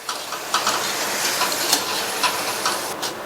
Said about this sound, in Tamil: எண்ணெயோட சத்தமும் ஓரளவு அடங்கி இருக்கு